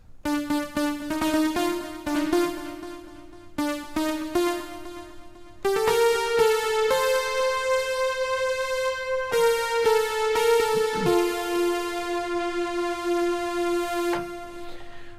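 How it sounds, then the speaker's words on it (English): A bright polyphonic patch on a Roland D-50 software synth, the stringy "Stereo Polysynth", plays chords and sustained notes, moderately loud, with no voices over it. "that little sort of stringy sounding patch was called stereo polysynth"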